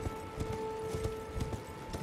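A horse gallops in the video game Elden Ring, its hooves beating in a quick, steady rhythm of soft thuds at moderate level over a faint tonal background hum.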